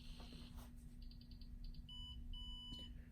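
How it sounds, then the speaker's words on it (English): Several short electronic beeps from an axle weighing recorder starting up sound over a steady low hum, with two longer tones near the end, fairly quiet and distinct. "and wait for 2 beeps."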